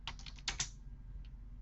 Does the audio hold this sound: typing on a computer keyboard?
yes